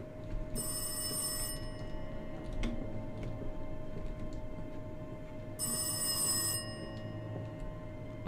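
An old-style telephone bell rings in the horror video game Rise of Insanity, two bright shrill bursts about five seconds apart over a quiet, low ambient hum.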